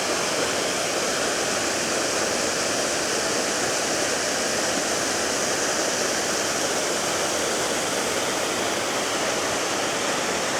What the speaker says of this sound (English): It is quite a pretty waterfall, and because it's so big, there's just so many compositions.